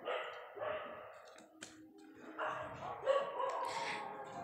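Several dogs bark loudly in bursts at night, with a few sharper yips mixed in, close by against an otherwise quiet background.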